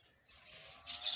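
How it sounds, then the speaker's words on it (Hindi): Pigeons kept in a cage give faint, scattered chirps and soft calls in a quiet room, swelling slightly toward the end, with no one talking. "कबूतर ले आए हैं जनाब, कबूतर ये रहे"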